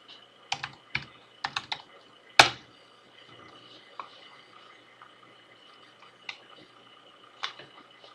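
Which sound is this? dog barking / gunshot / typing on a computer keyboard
typing on a computer keyboard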